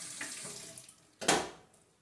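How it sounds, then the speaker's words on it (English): A carrot is rinsed under a running kitchen tap, a soft water stream with a brief louder splash as it hits the sink, heard alone and close. "Then I will wash my zanahoria or carrot."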